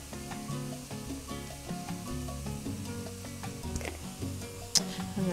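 Salt and paprika sizzle and toast in a pan for a Cuban white bean soup, a steady close frying crackle with stirring clatter and a sharp scrape near the end.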